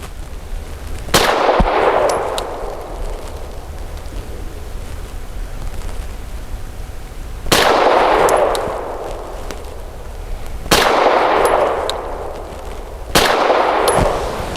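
A Tisas PX-9 Gen 3 pistol fires at a target 7 yards away, four loud, sharp shots spaced several seconds apart, each followed by a ringing, echoing decay outdoors.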